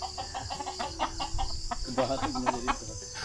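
A chicken clucks in a series of short, close, uneven calls, denser toward the end, over faint background noise.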